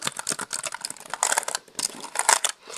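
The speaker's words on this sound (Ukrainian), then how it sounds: "Так, клавіатура, зараз включимо її." Rapid clicking of keys on a magnetic computer keyboard, a close, moderately loud run of irregular taps in bursts with brief pauses, no voices.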